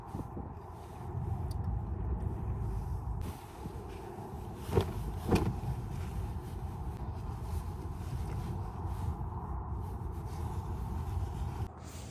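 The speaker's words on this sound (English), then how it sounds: "He's trying to position his car." A nearby car edges into a parking spot at a car-camping site, its engine a low, steady rumble with wind noise and a couple of faint knocks partway through.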